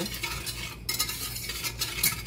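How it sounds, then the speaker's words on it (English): Cornstarch being whisked into milk for a no-egg custard pie, a steady near scraping and stirring in a bowl for a couple of seconds, with no talking. "I'm gonna whisk this together before I put the milk in."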